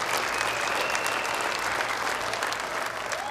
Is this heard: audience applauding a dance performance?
yes